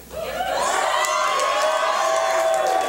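A live audience cheers and whoops for a man named Pfeiffer, a dense wall of shouting voices that rises quickly and stays loud and sustained for the whole stretch.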